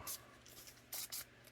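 Quick bursts from a spray bottle misting a holster-making surface before wiping, heard as a faint short spritz followed by two sharper hisses close by, with no talking.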